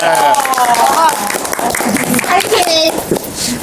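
An audience claps and cheers on a comedy roast set, a loud, close burst of applause mixed with voices and crowd noise.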